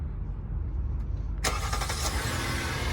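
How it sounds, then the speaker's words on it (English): A Hyundai Palisade engine starts by remote start after a short quiet stretch, with a sudden cranking burst that settles into a loud, steady idle rumble close by. "Lock the car, and then just hold the button for the remote start."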